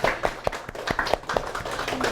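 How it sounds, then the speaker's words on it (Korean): A small church congregation claps to welcome a first-time visitor, a sparse, uneven patter of individual hand claps lasting about two seconds at close range. "박수 한번."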